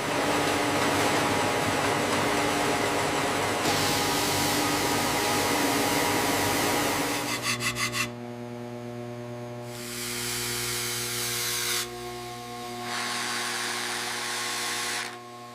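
A polishing machine works a bull horn in a factory, a loud steady whirring grind that drops to a lighter hum midway, then swells and fades again in bursts.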